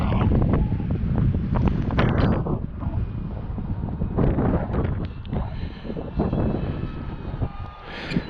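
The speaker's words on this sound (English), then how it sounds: "We got a little side breeze today" A side breeze at an airfield buffets the microphone during a Tecnam light aircraft session, making loud continuous rumbling gusts that swell and ease throughout.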